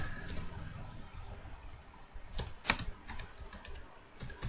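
Typing on a computer keyboard while entering a label in statistics software, with soft scattered key clicks at a faint level, bunched into a short burst around the middle.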